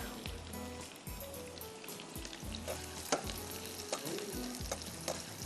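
Rice with sliced mushrooms and baby corn frying in a pan for egg fried rice, giving a steady close sizzle broken by repeated scraping stir strokes, with no talking.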